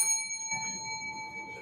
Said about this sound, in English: One bell ring, one ringy dingy.